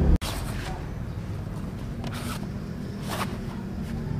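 Waterproof vinyl-coated zipper on a bikepacking bag pulled along its track, a steady rasping sound throughout with a few louder scrapes, close up.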